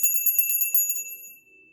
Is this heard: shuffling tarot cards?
no